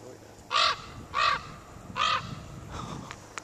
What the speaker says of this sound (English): There's a lot of crows around here, isn't there?